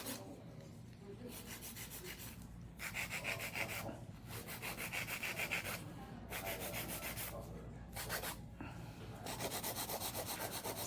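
An electric nail drill fitted with an OM15B chisel bit shapes gel nails, giving a close, quiet grinding whir broken into repeated sanding passes with brief pauses between strokes.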